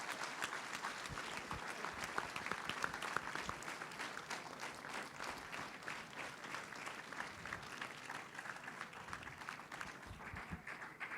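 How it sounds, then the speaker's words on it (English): Audience applause at a school class night, dense steady clapping from a crowd filling the whole stretch, fairly even in loudness with no speech over it. "I'd like a round of applause for Rick and Marsha"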